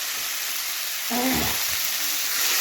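Potatoes being sautéed alone in a pan before cauliflower goes in, a soft sizzle that swells briefly midway as they are stirred, then settles back to a quieter hiss.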